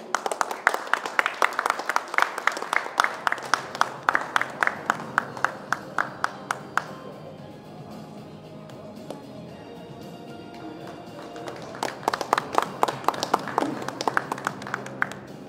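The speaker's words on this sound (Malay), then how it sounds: "tepukan yang gemuruh" Audience applause at the 6th anniversary ceremony of an oratory club, heard as rhythmic, fairly loud clapping that fades into a lull midway and then picks up again toward the end.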